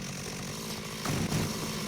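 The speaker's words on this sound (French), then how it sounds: "Maintenant j'ai 2 icônes sur ma tronçonneuse et elle dure 2 fois plus longtemps." A revving chainsaw in the video game Dead Rising Deluxe Remaster, a continuous dense buzzing drone that swells briefly in loudness partway through, heard close and alone.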